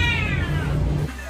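A cat gives one drawn-out, close meow that slides downward in pitch and cuts off after about a second, loud and alone.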